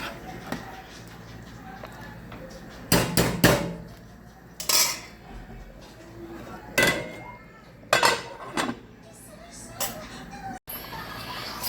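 Chicken pelau with rice being stirred in a metal pot, with bursts of clanking and scraping utensil strokes in short clusters, close and clear against a quiet kitchen background.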